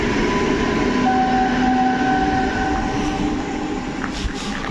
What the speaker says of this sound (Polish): ED160014 jako Intercity Kochanowski do Lublina, jeśli się nie mylę. Ale puściutki skład jedzie.